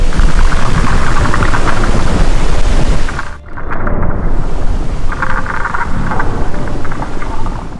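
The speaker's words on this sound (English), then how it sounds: "where ice breaks away with a thunder-like roar and becomes giant icebergs" A glacier in remote Greenland calving, ice breaking away with a loud, thunder-like roar that rumbles continuously, briefly dips, then swells back into a sustained, broad crashing rumble.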